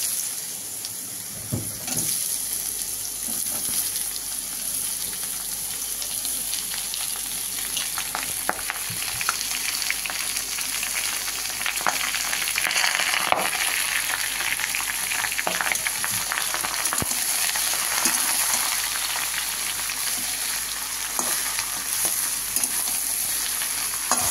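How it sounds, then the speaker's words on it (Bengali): Bottle gourd and whole cumin fry in a hot pan, a steady sizzle with intermittent stirring scrapes and clinks running close and unbroken for the whole stretch. "দিয়ে দিলাম গোটা জিরা, এবার দিয়ে দিচ্ছি আস্তে আস্তে লাউটা।"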